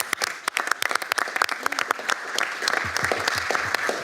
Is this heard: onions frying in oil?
no